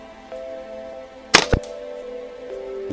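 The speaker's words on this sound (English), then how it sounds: "There's the first shot. That's 30 metres." A single sharp crack from a Walther Rotex RM8 .22 air rifle fired at a small spinner target 30 metres away at dusk, followed by a quick second snap, against an otherwise quiet outdoor background.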